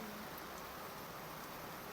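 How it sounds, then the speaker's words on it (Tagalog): Dense, steady hiss of heavy monsoon rain pouring down continuously during a high-tide flood in the Philippines, with no voices, filling the whole stretch evenly. "Ang lakas sa ulan."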